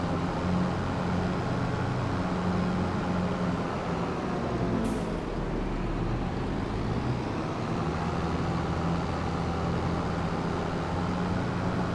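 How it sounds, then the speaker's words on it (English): A truck engine in the Farming Simulator 25 video game gives a steady, loud, unbroken drone with road-like rumble that holds at the same level throughout, with no talking over it. "this truck sounds good"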